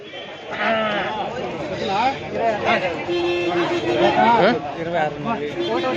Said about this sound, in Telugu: గూడూరు గొర్రెలు ఇవి.